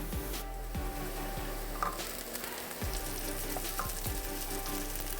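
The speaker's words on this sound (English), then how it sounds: "So we're gonna throw that rice in there." Rice sizzles and crackles in a hot pan with peppers and celery, a steady frying hiss broken by the scrape and knock of stirring, close and alone.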